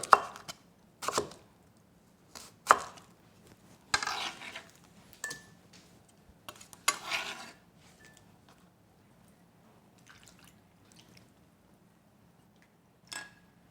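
A knife cuts dongchimi radish water kimchi on a cutting board in a home kitchen, sending out a series of sharp, irregular chopping knocks that grow sparse and give way to near-quiet.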